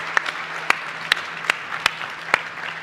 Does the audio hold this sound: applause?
yes